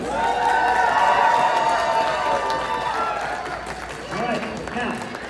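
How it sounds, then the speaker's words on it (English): A crowd claps and cheers for first-time cosplay contestants at a Pokémon and cosplay expo, loud and sustained at first and fading toward the end, with voices mixed in. "can we give a huge round of applause to all of our first-time contestants?"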